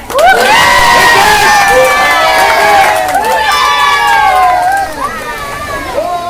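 Family members cheer and shout loudly at a 114th birthday celebration for a grandmother, overlapping voices and children's yells in a joyful hubbub, with the cheering swelling and falling across the clip.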